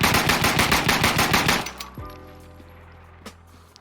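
Rapid burst of automatic gunfire from a secondary weapon with an extended 20-round magazine in a video game, loud and continuous for about a second and a half, then a clinking tail of spent casings and ringing quiet.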